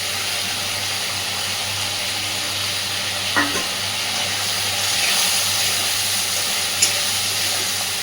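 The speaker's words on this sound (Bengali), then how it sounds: "এইবার ভেজে রাখা বেগুনগুলো সব এর মধ্যে দিয়ে দিলাম।" Pieces of already-fried eggplant go into hot oil in a pan, producing a steady, fairly loud broadband sizzle throughout. A couple of faint clinks and a soft stir rise briefly above it.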